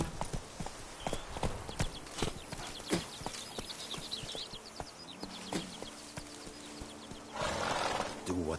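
Roach the horse in The Witcher 3: Blood and Wine, hooves clip-clopping in a steady walking rhythm and a whinny near the end, mixed with game ambience and spoken dialogue.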